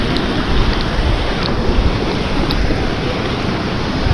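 Shirvane waterfall in Navi Mumbai roars continuously as a broad, loud, steady wash of falling water, close by and without pause, with a few faint clicks and no voices.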